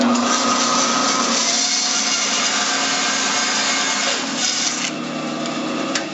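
A wooden toothpick holder has its sections cut off with a steady, loud rasping and grinding of blade on wood, continuous and close, easing slightly toward the end.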